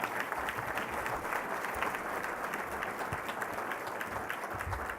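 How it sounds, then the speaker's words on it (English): A graduation ceremony audience applauds a student who beat leukemia, with steady, even clapping throughout, heard from a slight distance. "let's give him a round of applause"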